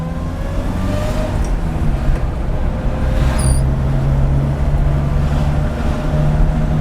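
Older Datsun (Nissan) Sunny B10 small car on the move, a steady loud engine drone with road and wind rumble throughout, heard from inside the cabin.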